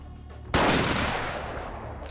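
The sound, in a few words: gunfire in video game Vampire the Masquerade Bloodlines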